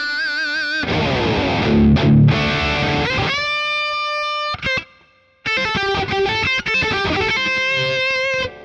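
Electric guitar played through a Boss Katana Go portable amplifier with reverb switched on: sustained chords and single notes ringing out with a lingering wash, a brief gap near the middle, then more strummed and picked phrases, loud and close with no voices.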